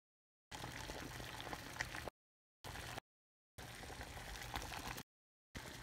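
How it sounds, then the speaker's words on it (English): Water coming to a boil in a pot, a bubbling, rushing roil heard in several bursts broken by abrupt silences, fairly quiet and close, with no talking. "now it's starting to boil"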